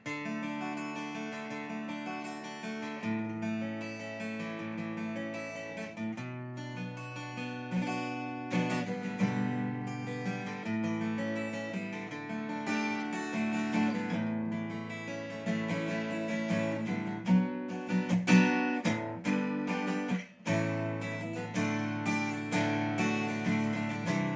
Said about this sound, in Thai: ันนี้คือเสียงกีตาร์เปล่าๆนะ ไม่ได้ผ่านแอบนะ